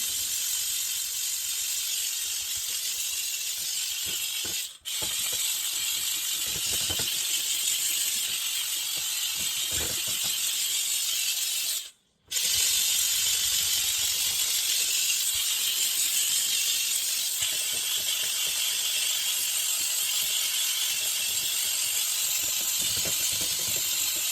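A Saker handheld steam cleaner blows a continuous loud, broadband hiss of steam nonstop, briefly cutting out twice with short gaps, close and without talk.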